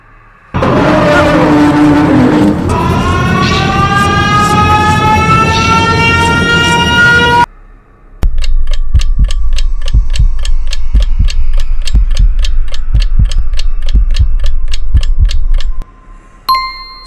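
A loud rising and falling siren-like wail with harmonic tones from the Siren Head monster, then a brief pause and a rapid, steady series of sharp clanking ticks.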